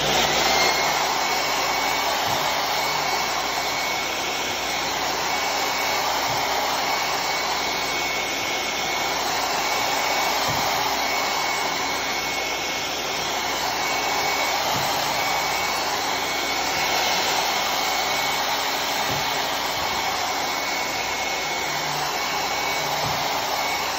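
A Sunnen CH-100 line hone machine runs a mandrel through the bore with oil lubrication, making a continuous steady whirring, grinding hum that holds level throughout with no talk.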